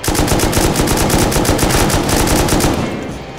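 Loud, sustained automatic gunfire rips in rapid rhythm in modded Rust during a large battle, a continuous burst that tapers off at the end.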